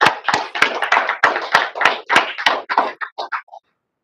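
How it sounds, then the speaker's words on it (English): A small group claps at a panel session of a tech product showcase, a short burst of sharp, fairly even hand claps that thins out and stops after a few seconds. "Please give a big round of applause to Rajesh."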